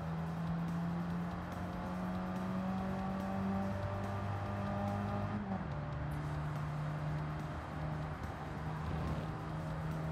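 A Gran Turismo 7 European classic compact car, fitted with narrow tires, strains uphill with a steady, labored engine drone that holds one pitch, then shifts lower partway through and keeps droning at moderate volume.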